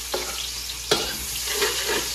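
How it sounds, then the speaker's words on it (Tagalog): Onions sauté in a hot pan with a loud, close, continuous sizzle, punctuated by a few sharp stirring scrapes and knocks of a utensil against the pan. "Siyempre una, magigisa tayo ng sibuyas."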